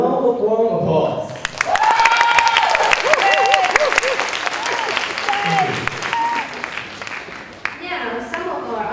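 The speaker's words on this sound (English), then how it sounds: "So let's give them all a round of warm applause." Audience applause for judges at a debate tournament, dense sustained clapping from a crowd, with voices talking over it and a tonal whine running through the middle.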